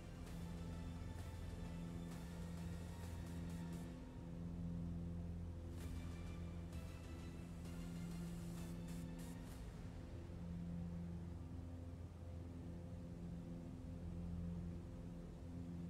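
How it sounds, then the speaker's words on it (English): Steady droning engine of a Piper light aircraft pushed hard in Flight Simulator 2020, a continuous loud hum with layered tones holding for the whole stretch, with no talk. "I'm pushing this poor Piper up to its limits."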